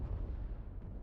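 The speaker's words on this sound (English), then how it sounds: "Another artillery coming up." Artillery fire in a competitive video game match, heard as a deep, low rumbling boom that rolls on for about a second, distant and muffled.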